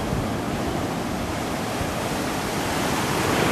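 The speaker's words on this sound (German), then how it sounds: "Und jetzt guckt euch mal hier die Wellen an." Ocean surf at Mirissa Beach, Sri Lanka, a dense, steady roar of breaking waves with wind noise, close and loud throughout, with no voices.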